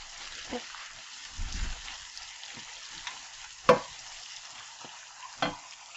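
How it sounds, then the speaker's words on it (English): Cabbage stew sautes in a pan as it is stirred, a low sizzle with soft scraping and occasional sharp knocks of the utensil against the pan, close and intermittent. "I'm going to saute nicely. And just make sure that it does not stick into the pan."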